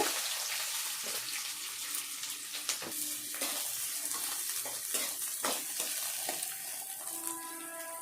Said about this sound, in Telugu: ఎర్రగడ్డ, పచ్చిమిర్చి వేసుకున్నానండి.